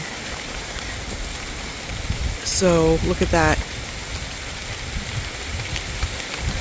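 Steady rain falls outside ahead of Hurricane Milton, a dense, even hiss throughout, loudest near the middle where someone briefly speaks over it.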